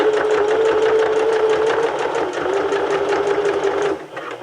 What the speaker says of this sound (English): and then you can continue sewing